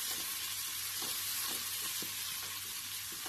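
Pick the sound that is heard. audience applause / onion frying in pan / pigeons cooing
onion frying in pan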